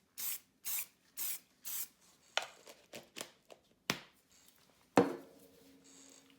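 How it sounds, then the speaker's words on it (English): Short hissing bursts of fixative spray on a front-view car rendering, four evenly spaced puffs close by, followed by scattered taps, rubs and a sharp knock. "now I spray fix"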